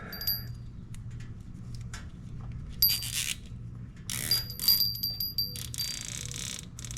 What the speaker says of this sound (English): That bell rings really well, doesn't it?